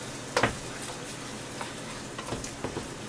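Canned diced fire-roasted tomatoes are stirred into onions and garlic in a hot pan, giving a soft, steady sizzle with a few clinks and scrapes from the spoon.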